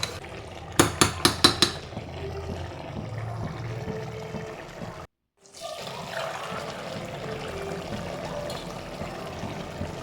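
A few quick metallic clinks of a spoon against a pot while mutton curry with spices is stirred, followed by soft, continuous scraping and sloshing close by.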